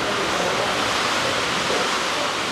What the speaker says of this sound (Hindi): आंधी और तेज़ बारिश भी हो रही है